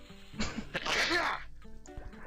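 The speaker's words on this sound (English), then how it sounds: "I have never heard my dad sneeze at an acceptable level." A loud man's sneeze bursts out close by, a short sharp inhale followed by a forceful explosive blast that trails off, with quiet room sound around it.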